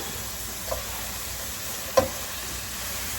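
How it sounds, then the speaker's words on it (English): Seasoned pig feet cook in a pan with a steady, low, even sizzle that continues throughout, broken by a single clack of a utensil near the middle. "So I'm just gonna brown these, like not brown, but let them cook"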